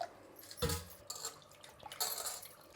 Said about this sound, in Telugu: ఇప్పుడు నీళ్ళు పోసుకుందామండి.